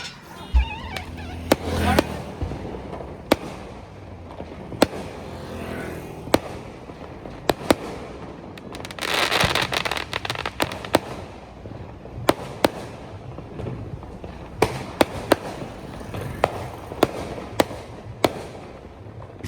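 Repeated sharp firecracker bangs pop at irregular intervals during Diwali celebrations, with a denser crackling burst of fireworks in the middle, some near and loud, others farther off.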